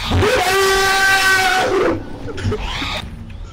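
A blender monster from the video game Content Warning lets out a loud, harmonic whistling howl for about two seconds, then quieter hissing rasps and a brief rising squeal follow.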